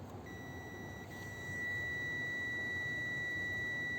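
Continuity beep from a multimeter while checking a wire on a 2009 Mercedes-Benz C300, a steady thin tone that starts early and holds to the end over faint background noise.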